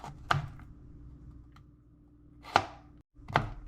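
Kitchen knife finely dicing vegetables on a cutting board for shepherd's pie stuffed potatoes: three sharp, close chops spaced over a few seconds, with quiet pauses between.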